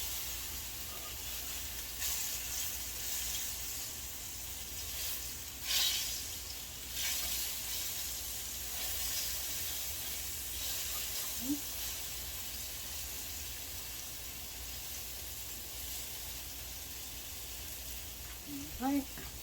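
Plantain slices fry in a pan of hot oil, giving a steady, close sizzle and crackle all the way through, with a few faint clinks and stirring sounds over the top.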